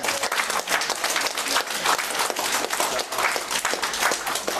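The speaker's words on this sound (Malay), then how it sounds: "Bagi tepuk tangan." Dense, sustained applause from a business convention audience at a company headquarters, many hands clapping steadily and loudly throughout without a break.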